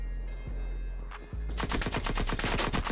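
A nail gun fires in the Black Ops Cold War game, starting with a few isolated shots and then a rapid, evenly spaced burst of loud, close, sharp reports over a steady low hum.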